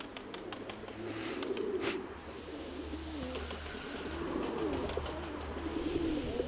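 Pigeons coo in soft, repeated low phrases at moderate distance, layered over steady outdoor ambience with scattered faint chirps and clicks, no voices present.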